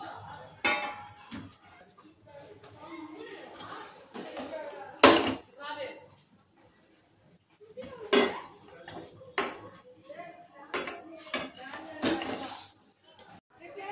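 Mango sweet being scraped from a pan onto a ghee-greased plate in a home kitchen, with repeated metallic clinks and scrapes of a spoon against the vessel, irregular and close, amid pauses.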